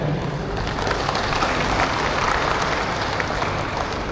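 Audience applause at a Kenyah Sarawak association dinner, a steady wash of many hands clapping together that holds at an even, fairly loud level throughout with no pauses.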